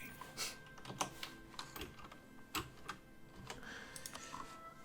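Rapid computer keyboard typing with irregular clicky keystrokes and occasional sharper key hits, close and fairly quiet, with no voices.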